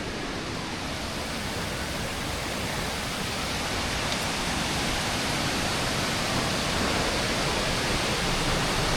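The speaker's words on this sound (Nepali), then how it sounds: "यो झरना एकदम राम्रो छ" Mohini Jharana waterfall in Nepal roars as a loud, steady, broadband rush of falling water, unbroken and close, with no voices or other sounds standing out.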